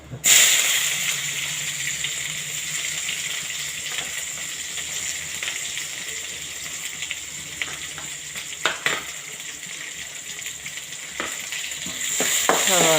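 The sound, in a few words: onions sautéing in oil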